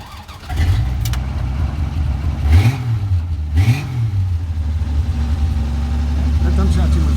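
A 1966 Dodge Dart GT with a Slant Six engine and high-flow exhaust starts up close by, then gives two sharp throttle blips that rise and fall in pitch over a steady, throaty idle.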